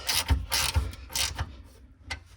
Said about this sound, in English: You can hold that nut and get it tight from this side.